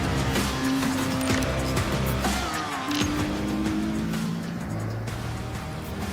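Ferrari Challenge race car at Spielberg accelerating up through the gears, a loud engine note climbing in steady tonal sweeps with brief dips at each shift, up close and continuous without talk.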